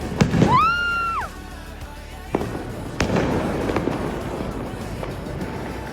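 New Year's Eve fireworks burst in sharp, scattered bangs that resemble gunfire, one whistling rocket rising first, then several cracks near and far over a rumbling background.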